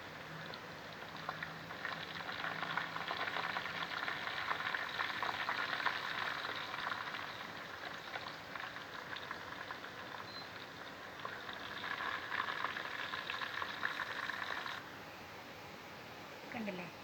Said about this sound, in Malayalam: ചെറിയ ഉള്ളിയും സവാളയും വെന്ത് അങ്ങനെ കരിഞ്ഞ് വരണ്ട, നന്നായിട്ടൊന്ന് മൂത്ത് വന്നാൽ മതി.